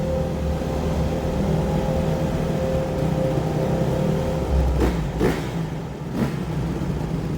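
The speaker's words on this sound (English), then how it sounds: "the engines roar" Motorcycle engines drone steadily inside a circus globe of death, a loud continuous mechanical roar with sustained tones and a few brief surges, heard alone without talk.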